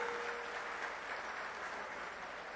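An audience at a political rally in Kurukshetra, Haryana, claps loudly in a dense, steady wash of applause that keeps going at even strength for the whole stretch, with no voice over it.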